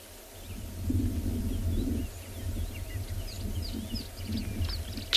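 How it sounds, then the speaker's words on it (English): Several bird species call in a valley below at sunset on a safari, including a green-backed camaroptera, golden-tailed woodpecker, rattling cisticola and orange-breasted bushshrike: faint, distant chirps and short whistles over a low steady hum. "the different birds calling in the valley below"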